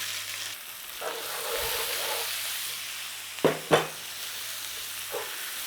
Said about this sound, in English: Nice little stir fry on those.